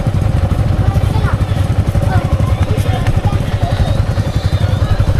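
A motorcycle engine chugs with a steady low rumble throughout, close and continuous, while people talk over it.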